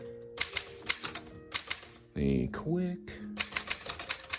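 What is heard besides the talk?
typing on a 1959 Sears Smith Corona President XI typewriter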